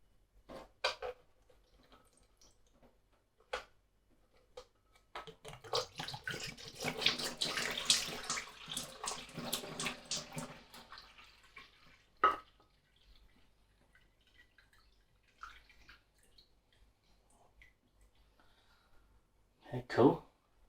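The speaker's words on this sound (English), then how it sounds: "Let's just try pouring some of this out." Homebrew double IPA is poured out of a Pinter keg, a splashing, gurgling liquid stream lasting several seconds in a quiet room, bracketed by a few sharp clinks and knocks.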